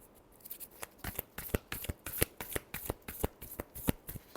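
Tarot cards riffled and shuffled by hand in a rapid series of crisp, close flicks, about a dozen sharp snaps in quick succession with no talking.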